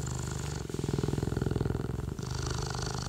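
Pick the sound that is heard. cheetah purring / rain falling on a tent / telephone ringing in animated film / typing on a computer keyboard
cheetah purring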